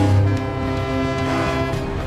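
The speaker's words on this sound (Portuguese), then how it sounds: "Os navios da equipe de resgate soam suas buzinas para comemorar." Rescue ships sound their horns together in celebration, a loud sustained blare of layered tones that carries throughout without pause.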